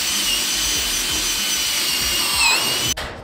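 A power drill bores into the frame of a lightweight mobile chicken tractor, a steady, loud whirring grind that runs for nearly three seconds and then cuts off abruptly.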